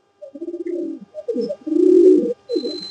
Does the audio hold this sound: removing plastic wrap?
no